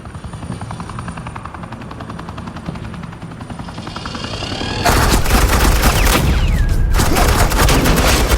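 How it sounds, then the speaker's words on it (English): Suppressing gunfire bursts out in the Batman: The Enemy Within video game, starting after a low, steady helicopter-like drone and then turning into loud, dense, continuous rapid shots that fill the rest of the clip. "This is Agent Quinn, suppressing fire."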